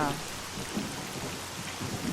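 Steady rain with a low rumble of thunder in the video game S.T.A.L.K.E.R.: Call of Pripyat, a constant wash of falling water around the listener, with soft distant rumbling underneath and no voices.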